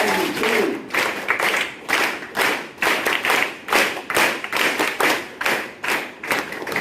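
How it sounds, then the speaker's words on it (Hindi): An audience at a health and naturopathy talk claps in rhythmic bursts, strong regular beats repeating steadily throughout at close range. "तालियां बजाएंगे आप अपने लिए?"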